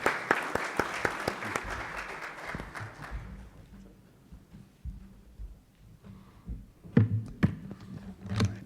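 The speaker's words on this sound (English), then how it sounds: "A round of applause to all of them" Applause at the close of a conference panel in Chicago rings out loudly for about three seconds, then thins and fades away, followed by scattered sounds and a few voices.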